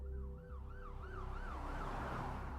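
An ambulance siren wails in a rising and falling pattern over a low rumbling vehicle engine, fairly close and steady for the whole stretch.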